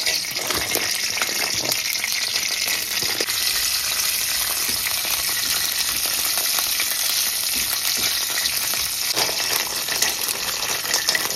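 Nuts sizzling in boiling ghee for a homemade sweet, a steady loud bubbling fry holding evenly throughout with faint scattered crackles and no voices.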